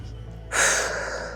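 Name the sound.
deep breathing in and out during warm-up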